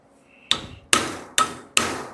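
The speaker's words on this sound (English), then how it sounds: "Give it the hammer." A hammer strikes a metal panel four times to curve it during custom bodywork on a 1938 Cadillac door. The blows are sharp, loud and ringing, evenly spaced about half a second apart, each with a short decaying clang, and no one speaks.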